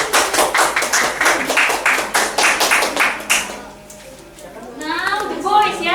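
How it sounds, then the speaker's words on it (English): Children in a classroom clap for their classmates, a run of sharp, fairly quick claps lasting a few seconds before fading out, followed by a voice speaking. "Give applause to your friends."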